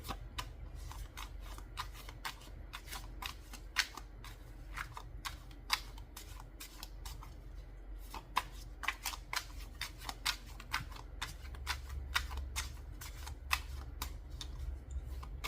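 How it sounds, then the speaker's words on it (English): Rapid, crisp tarot card riffles and snaps repeat steadily, close up, with soft shuffling between bursts over a low background hum. "I like to shuffle with my eyes closed, just to try to mitigate any unconscious bias when I'm shuffling my cards"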